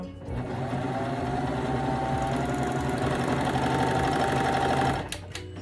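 A serger sewing machine runs steadily for about five seconds while stitching doll-sized bell-bottom trousers, giving a close, loud, continuous motor whir that stops abruptly near the end. No voices.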